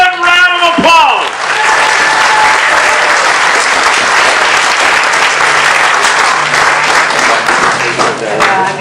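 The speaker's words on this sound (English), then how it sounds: "Good round of applause." A crowd at a Texas liars storytelling contest bursts into loud, sustained applause after a short bit of speech at the start, the clapping holding steady and close for several seconds.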